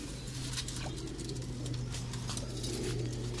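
Pigeons in a rooftop loft, soft low cooing repeating beneath a constant background hum, with light fluttering and scratchy rustles scattered throughout.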